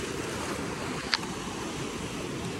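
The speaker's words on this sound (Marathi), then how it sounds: "इथं लाटा येतात अजून" Steady broadband wash of sea waves breaking on a rocky shore at Ratnadurg, Ratnagiri, a continuous surf rumble with one brief sharp click partway through, no voices.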